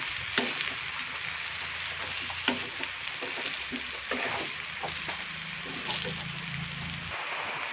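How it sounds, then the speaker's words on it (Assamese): Onion, garlic, ginger and chili masala fries with soybean chunks in a pan, giving a continuous close sizzle broken by occasional stirring scrapes and clicks, with no voice over it. "ইয়াত দিয়া পিঁয়াজ, ৰচুন, আদা, জলকীয়াৰ মছলাখিনি অলপ ইয়াত সোমাবলৈ অলপ সময় এনেকৈ ভাজিম"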